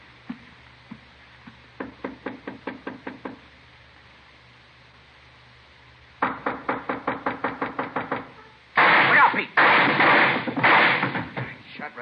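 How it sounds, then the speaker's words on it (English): Gunshots blast through a door in an old-time radio crime drama, first in sharp spaced bursts, then in a rapid run of loud cracks, followed by a heavy, noisy clatter. "Shot right through the door."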